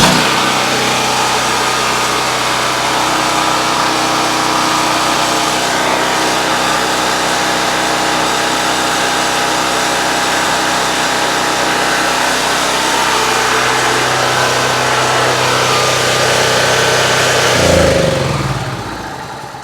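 A Powermate portable generator engine, after a pull-cord start, runs at a steady loud drone close by with no voices, then briefly surges and cuts out near the end.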